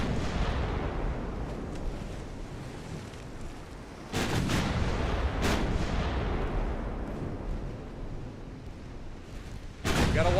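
Heavy naval artillery firing in Ultimate Admiral Dreadnoughts, with three loud, booming salvos spaced several seconds apart over a rumbling battle background.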